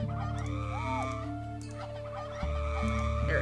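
Squawking and clucking bird calls in the game Niche repeat over a steady layered musical drone, close and fairly prominent with no talk.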